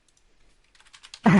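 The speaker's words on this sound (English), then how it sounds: "That's me typing fast." Quick bursts of keystrokes on a computer keyboard, faint scattered taps that build into a rapid cluster before a louder, fuller sound cuts in at the end.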